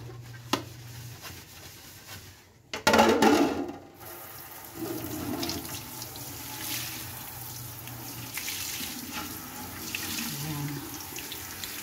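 Tap water running into a kitchen sink during dishwashing, a steady moderate splashing stream with a louder gush around the third second and occasional clinks, background voices faint.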